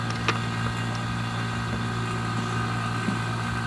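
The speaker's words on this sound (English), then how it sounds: "So I have the vacuum pump running." A vacuum pump runs steadily while evacuating the AC system of a Jeep Cherokee during a compressor replacement, a constant hum with a mechanical drone and no breaks, moderately loud and close.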